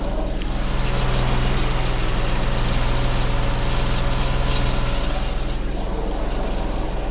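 A restored 1989 Suzuki Mehran with new belts idles steadily close by, its small engine giving an even, continuous hum throughout with no talking.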